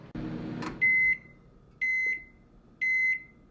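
A microwave oven finishing heating an egg gives three evenly spaced, clear electronic beeps about a second apart, after a brief hum and click, in a quiet kitchen.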